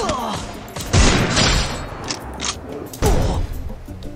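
A burst of rapid gunfire in an online shooting game crackles close and loud, followed by a second volley a couple of seconds later, with a few softer thuds and game sounds in between.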